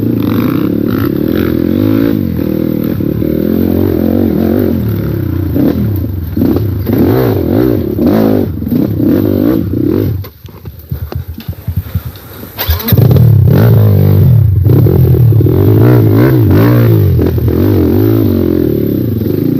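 Kawasaki KLX dirt bike engine revving and accelerating on a trail, loud and close with a rough throbbing note, a brief drop near the middle then a stronger surge of throttle, no speech.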